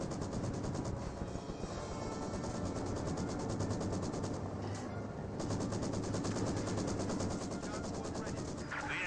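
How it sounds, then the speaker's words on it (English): Maxim machine gun in Company of Heroes 2 hammers out a dense, continuous stream of rapid fire for the whole stretch, loud and close, with steady battlefield rumble underneath and a brief lull midway. "now the Maxim will retaliate"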